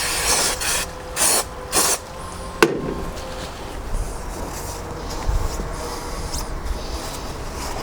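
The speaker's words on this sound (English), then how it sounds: "Give it a quick blasting with some carbon brake cleaner." Carbon brake cleaner is sprayed onto a part of an MK2 Golf GTI with a KR engine: several short, loud aerosol hiss bursts up close, then a sharp clank and quieter rustling.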